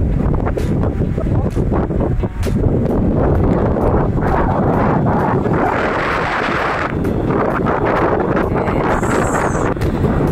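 Strong, steady wind on a mountain platform at Mt Kalugong roars and buffets the microphone throughout, a constant loud rush with no voices.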